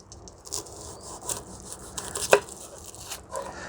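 A knife trims the edges of a ginger rhizome, giving soft, faint scraping and rubbing cuts with one sharper click partway through, close up and quiet.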